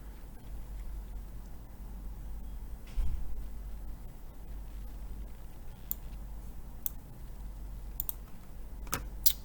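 A computer mouse clicking while navigating an online chemistry practice test: a few faint, sharp clicks spaced seconds apart over a low steady hum, with no talking.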